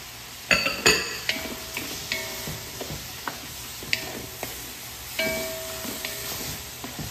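Italian sausage going into a pan, with sharp clatters and scrapes of stirring over a quiet steady sizzle and a few clinks of cookware.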